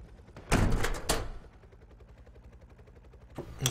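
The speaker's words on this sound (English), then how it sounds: "Those missiles." Missile launches in the AirMech video game, fired from a mech flying in air mode: two sharp, loud blasts close together, a short quieter stretch, then another burst at the end.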